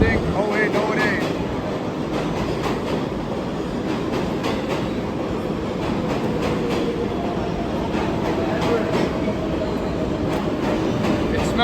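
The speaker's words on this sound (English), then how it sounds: "this is our train approaching, I think" A subway train rumbles through an underground station in Philadelphia or New York, a steady loud roar with rhythmic clicking and clattering wheel noise throughout.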